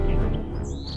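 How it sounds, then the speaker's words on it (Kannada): A bird's call in an animated children's story: a short, high chirping whistle heard over a dense, steady backing of music and sound. "ಪಕ್ಷಿ ಇಲ್ಲಿ ಕೂಗುತ್ತೆ"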